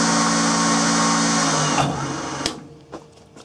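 A refurbished lathe runs at full speed, about 800 RPM, giving a steady mechanical whine with harmonic tones. It winds down and fades partway through, leaving a couple of faint clicks.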